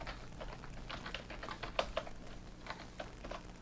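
Quick, light keystrokes patter on a computer keyboard, close and fairly quiet, in an irregular run with a few sharper key hits partway through.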